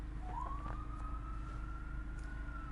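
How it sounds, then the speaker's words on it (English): A police siren wails in Fresno, climbing in pitch and then holding a long steady tone over a constant low traffic rumble. "Police sirens."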